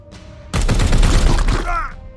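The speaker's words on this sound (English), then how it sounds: "I'm shooting them very long range" Rapid gunfire from a squad opening up at very long range in the Warhammer 40k: Chaos Gate - Daemonhunters video game erupts as a dense, loud burst of shots lasting over a second, then trails off into a brief electronic sweep.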